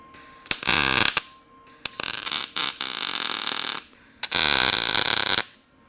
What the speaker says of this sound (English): So let's get this thing spot welded in.